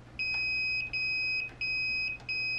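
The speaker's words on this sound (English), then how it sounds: "notice the case and the mounting points have a good connection and we get the beep" A continuity tester gives a steady, fairly loud electronic beep as its probes bridge a 12 volt solenoid's case and mounting points for a good ground connection, pulsing in four long tones with brief gaps and no talk.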